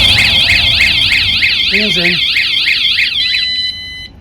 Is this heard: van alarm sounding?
yes